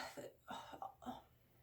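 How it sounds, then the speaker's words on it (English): A few soft coughs in quick succession from someone speaking, three short bursts close to the microphone in a quiet room. "I find in the wintertime when I talk too much, I cough."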